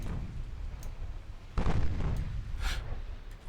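Enemy battleship destroyed in the Ultimate Admiral Dreadnoughts naval battle game, a sudden heavy boom partway through that rolls on under low rumbling gunfire, with small cracks around it.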